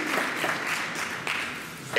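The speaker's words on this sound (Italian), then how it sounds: "Antonio, Mazza Domenico e Mascaro Giuseppe, facciamo un applauso." Applause from a crowd at an outdoor living nativity scene, a steady patter of clapping that carries on for the whole stretch at moderate loudness.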